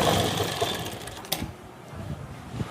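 A sewing machine runs as it stitches a salwar seam, a short rattling burst that fades, followed by a few isolated clicks and taps of handling.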